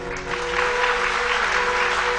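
A congregation at a Ram Katha religious discourse applauds, with sustained, even clapping that swells slightly and holds steady over a low hum.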